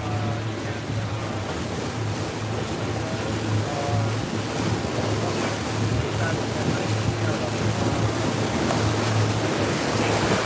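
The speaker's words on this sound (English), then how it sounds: "I'm sorry it's loud. Can't really do anything about it because I'm on a boat." Riding on a boat off Fort Lauderdale, a constant loud rush of wind and water noise with a low engine hum running underneath throughout.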